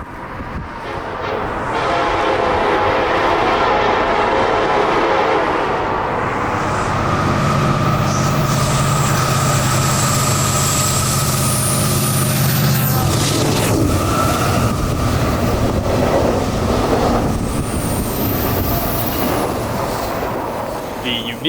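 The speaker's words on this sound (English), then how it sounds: "I-037 would stay straight on the Nahunta through Callahan, with another one of the SD70 rebuilds in the lead." A CSX freight train led by a rebuilt SD70 locomotive passes through Callahan in the evening, producing a loud, continuous, close rumble that holds steady throughout.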